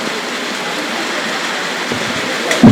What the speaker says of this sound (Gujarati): બહાર વરસાદ પડ્યા કરે